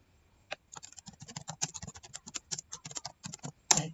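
Someone types on a computer keyboard while preparing a meeting invitation, producing a close, irregular run of sharp keystrokes with brief pauses and one louder cluster near the end. No voices are heard.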